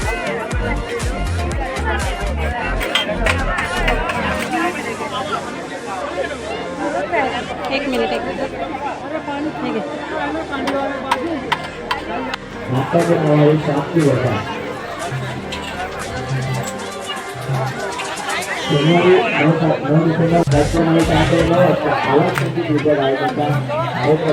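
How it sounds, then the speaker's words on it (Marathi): Dense crowd chatter fills an evening Malvani market at the Konkan festival in Bhandup, a steady babble of many voices close around with occasional louder passing talk. "आता गर्दी झाली आठ वाजले रात्रीचे बरीच गर्दी झाली मालवणी बाजारामध्ये"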